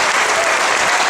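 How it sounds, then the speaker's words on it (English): Audience applause for a group of male performers on stage at a mouth music workshop, a short burst of dense, loud clapping filling the room throughout. "let's give a round of applause to all the gentlemen on stage"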